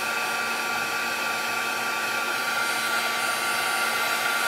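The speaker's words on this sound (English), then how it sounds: "heating it up a little bit before I turn the embossing gun on it." An embossing heat gun blows a steady, close, even whirring hiss while melting embossing powder on a card, with no talk over it.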